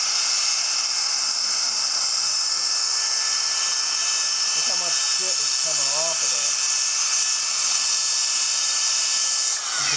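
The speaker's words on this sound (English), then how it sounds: "So let's go flapper disc that" Angle grinder with a flap disc smoothing a metal baler part, a steady loud high-pitched whine running the whole time, with brief voices showing up faintly underneath midway.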